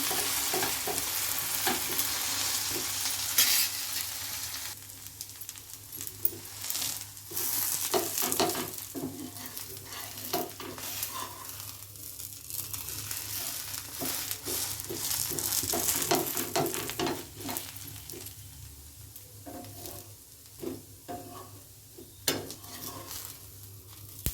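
Onion dosa roasting in oil on a hot pan gives a steady, close sizzle for the whole stretch, with occasional light clinks and scrapes of a spatula against the pan.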